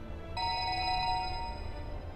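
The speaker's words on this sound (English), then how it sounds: "Abruptly, Mario's cell phone rang in Stanley's pocket." A cell phone rings in the video game 428: Shibuya Scramble, a bright electronic ringtone starting abruptly and sustaining its tones for about two seconds over faint background hum, with no talk.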